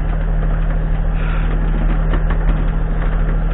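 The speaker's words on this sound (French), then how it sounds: "en accélérant le moteur, au lieu de me déplacer comme ça, ben, je me déplace comme ça" Small sailboat's engine on the open Atlantic amid strong ocean currents, a steady droning hum that holds at an even, loud level throughout with no speech over it.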